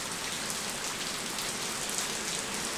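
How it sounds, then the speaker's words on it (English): Steady rain falls outdoors during a gas-tank build for a motorized bike, a dense, even hiss of drops striking surfaces that fills the whole stretch with no voices. "because of this here rain, I can't really get the other tank"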